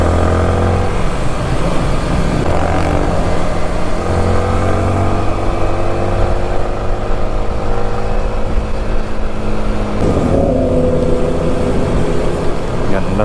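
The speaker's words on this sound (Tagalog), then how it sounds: "tunog ng mga 1000cc ah" Loud, close engine roar with rising and falling revs, several powerful 1000cc motorbikes droning together without a break in rainy traffic, with people talking faintly underneath.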